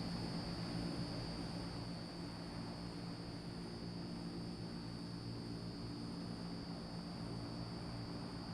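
A C-160 twin-propeller transport aircraft droning steadily in a flight simulator, with a constant cabin hum and propeller whine and no talking.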